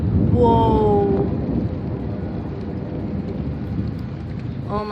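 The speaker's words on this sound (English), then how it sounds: "Loud, loud, loud thunder." Loud thunder rumbles through a storm with steady heavy rain, a sustained low roar that slowly fades, with a brief tonal whine near the start and a sharper crackle at the end.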